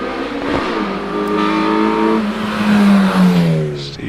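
A Mazda MX-5 launches from the start line at the Prescott hillclimb, its engine revving hard and rising in pitch through the gears, loud and close at first and then pulling away.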